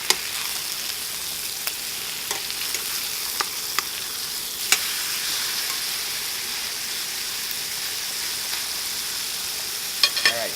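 A grass-fed ribeye steak sears in a hot pan with a steady, dense sizzle and crackle, occasional sharper pops rising above the continuous frying hiss, close and fairly loud with no talking.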